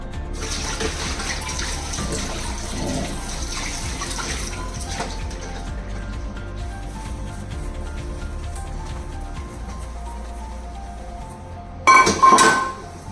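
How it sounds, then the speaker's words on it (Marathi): Water runs steadily into a sink while pots used for cooking kadhi clink and rattle as they are scrubbed, with a short burst of louder clattering near the end. "आता ही कडी केलेली भांडी घासून घेते"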